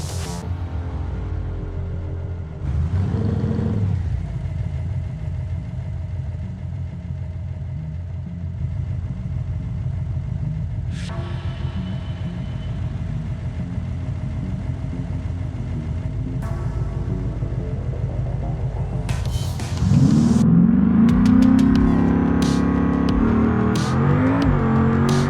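Modified Bruckell Bastion drag car in the BeamNG driving game, a rumbling engine idling steadily before revving up sharply into a loud, rising acceleration near the end.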